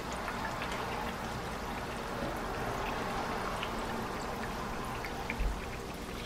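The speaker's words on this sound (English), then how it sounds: "that inside dough, you know, is being cooked. It's being fried." Biscuit dough frying in hot oil, a steady, fine sizzle and bubbling hiss that runs evenly and fairly quietly throughout, with no talking.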